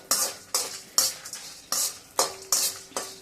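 Spices and dried red chillies stir-roasted in a pan for puliyodharai, a close, rhythmic run of about seven bright scraping strokes against the pan, roughly two per second, with a faint sizzle between them.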